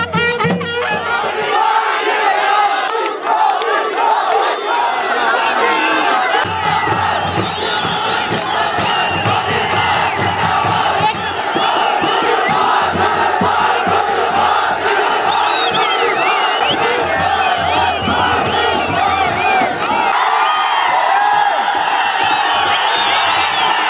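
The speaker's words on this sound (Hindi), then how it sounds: "नामांकन के दौरान बॉबी पवार के साथ जो भीड़ देखने को मिली" Large crowd at Bobby Pawar's nomination filing rally in Uttarakhand, a continuous loud mass of shouting and chanting voices that keeps up without a break.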